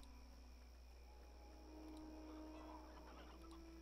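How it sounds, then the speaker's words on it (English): Chickens clucking in Neverwinter Nights, faint scattered clucks over a steady hum and insect-like ambient chirping, with no talking. "Oh, listen to the chickens."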